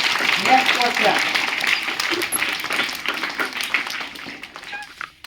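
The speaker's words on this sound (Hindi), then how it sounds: "चलिए जोरदार ताली कीजिए" A classroom group gives enthusiastic clapping during a quiz session, a burst of many hands that fades toward the end, with voices mixed in.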